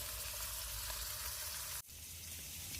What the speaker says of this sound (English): Oh, sizzling like a good one.